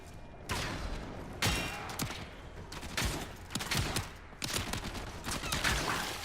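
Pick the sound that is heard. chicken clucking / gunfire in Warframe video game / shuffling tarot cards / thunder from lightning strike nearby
gunfire in Warframe video game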